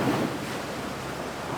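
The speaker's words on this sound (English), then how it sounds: "We're out here in about 6 metre swells at the moment and we're going all over the place." Rough open-sea waves in roughly 6 metre swells roll and crash steadily against a boat, a loud, continuous wash of surf mixed with wind buffeting the microphone, no voices.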